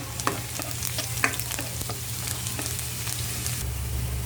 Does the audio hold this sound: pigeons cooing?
no